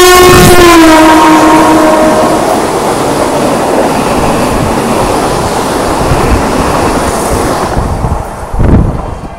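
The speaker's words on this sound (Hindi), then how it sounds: "विशाखापट्टनम के लिए रिवर्स वंदे भारत जो ओवरटेक कर दी गई है।" A passing Vande Bharat express train roars loudly close by as it overtakes, opening with a fading horn blast and followed by a sustained rushing rumble that tapers near the end.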